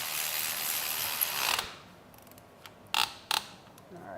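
A ratchet wrench tightens a starter bolt on a car in a home garage: a broad rushing noise at first, then a couple of short, crisp clicks close by.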